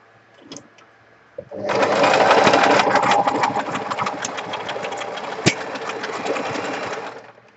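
A sewing machine stitches pocket fabric in one loud, continuous whirring run of about six seconds, after a couple of brief clicks.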